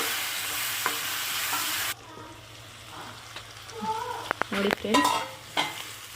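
Sambar in a pot being stirred with a spoon, a loud hiss that cuts off abruptly and gives way to wet scraping and clinking strokes against the pot; no talking.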